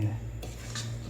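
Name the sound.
stirring sugar into sweet rice with a spoon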